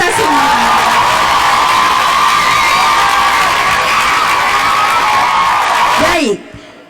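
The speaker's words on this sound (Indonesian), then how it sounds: "Beri tepuk tangan untuk kita semua." A workshop audience claps and cheers loudly, a dense, sustained wash of applause with whoops and shouting that carries on steadily before cutting off abruptly.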